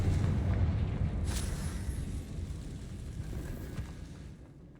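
A Confringo blast spell going off in a video game, a loud rumbling explosion with a sharp burst near the start that rolls on and slowly fades over several seconds.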